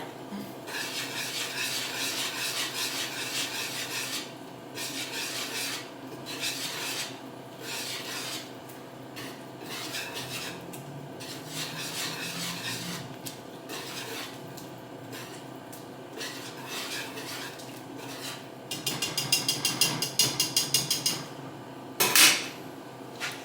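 Soup is stirred in a cooking pot, heard as a steady rhythmic scraping and rubbing of a utensil against the pot, fairly loud and close, pausing briefly before a harsher burst of scraping near the end, with no talk.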